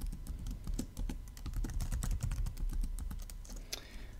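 Rapid, close-up typing on a computer keyboard as a password is entered, a quick run of crisp key clicks with no talking.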